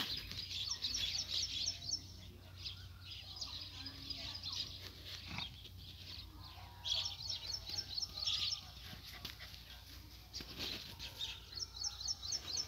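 Golden and white pigeons landing outdoors, with repeated bursts of wing flapping and faint chirps against a quiet background and distant murmuring voices.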